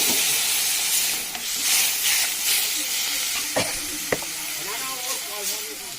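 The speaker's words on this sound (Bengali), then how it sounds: "সর্ষে দিয়ে বেশিক্ষণ ভাজলে যেহেতু তিতো হয়ে যায়, তাই আমি দিয়ে দেবো এর মধ্যে জল" Mustard paste with a little garlic frying in a pan for a hilsa curry breaks into a steady, close steam hiss as water goes in, with a few faint utensil clinks over the bubbling.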